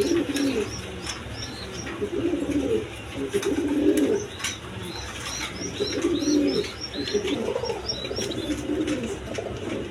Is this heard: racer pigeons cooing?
yes